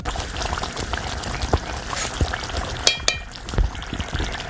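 Sugar sprinkled into a simmering Bengali katla fish curry, soft bubbling and light sizzling with a few faint ticks and pattering sounds, steady and quiet.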